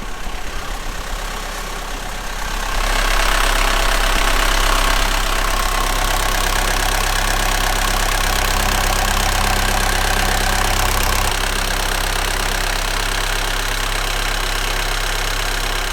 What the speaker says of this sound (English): I'm super stoked that we got the engine running